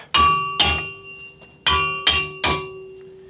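A hammer strikes a weld on thick steel plate made with a cheap $89 welder: five loud, close metallic blows, each ringing briefly, in an uneven rhythm with a short pause in the middle.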